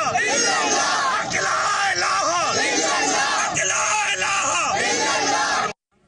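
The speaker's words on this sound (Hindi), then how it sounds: "वायरल वीडियो में भीड़ सिखों के खिलाफ नारेबाजी करते हैं" A large crowd shouts and chants slogans outside a gurdwara in Punjab province, Pakistan, a dense roar of many voices with rising cries that cuts off abruptly at the end.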